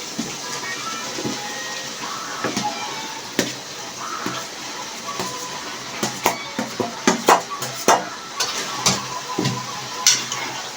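Vegetable tipped into frying tomato masala, scraped and stirred with a spoon while the pan sizzles steadily, with sharp utensil clicks and scrapes recurring through the mix.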